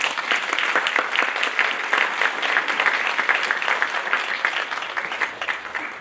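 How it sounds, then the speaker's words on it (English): Audience at a student spoken-word and writing celebration applauds steadily, a dense continuous clatter of many hands that holds at even loudness for several seconds before easing slightly. "Let's give them another round of applause."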